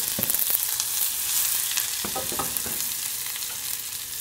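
Steady crackling sizzle of onions frying in a hot pan for farofa de carne, with occasional stirring scrapes, continuous and close.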